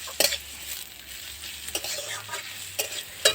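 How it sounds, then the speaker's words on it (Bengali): Chopped onion frying lightly in hot oil while being stirred for a crab cutlet, a soft steady sizzle with several quick scraping stirs and clinks, close and fairly quiet, no voices. "তেলের মধ্যে দিয়ে দেব পেঁয়াজ কুচি। পেঁয়াজটা আমি ভেজে নেব।"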